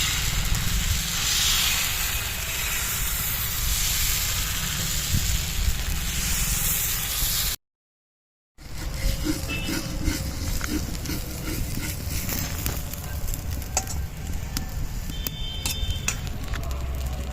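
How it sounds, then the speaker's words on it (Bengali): Radish pitha batter cooking on a hot tawa gives a steady, close hiss and sizzle that cuts out briefly, then resumes with faint scraping and clinks. "আবার দিয়ে দিচ্ছি আমি তাওয়াতে রান্নাটা।"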